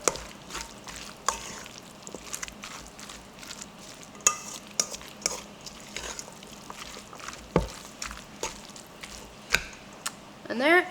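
A spicy chicken salad with homemade Tabasco sauce being stirred and mixed in a bowl, soft wet squishing and scraping with scattered clicks of the utensil against the dish, close up.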